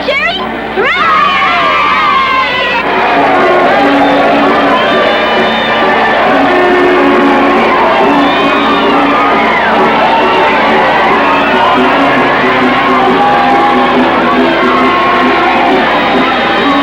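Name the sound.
crowd cheering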